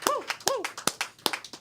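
A few sharp, close claps from a small group in a podcast studio ring out in an uneven rhythm, with voices calling out between them.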